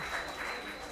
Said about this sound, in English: Let's keep those claps allowed again for our friends tonight